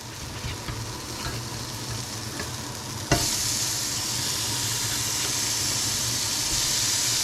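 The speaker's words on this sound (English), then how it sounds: "You like to hear that sizzle" Vegan burger patties sizzle and hiss steadily in a preheated cast iron pan, a loud continuous fry that jumps louder after a sharp clack about halfway through, as the patties are flipped.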